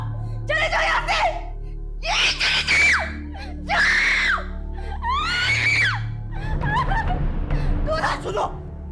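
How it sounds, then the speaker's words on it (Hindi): A woman screams repeatedly in a dramatic scene, several loud, rising shrieks in bursts across the stretch with background music underneath. "चीखो मत, चीखो मत, छोड़ो मुझे"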